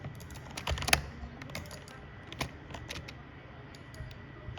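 Rapid computer keyboard typing and mouse clicks during a game of Hypixel Bedwars, a steady patter of close, crisp clicks with a few louder bursts, with no talking.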